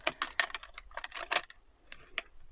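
Quick, light papery flicks and taps of tarot cards being shuffled, in a few brief bursts, close and quiet.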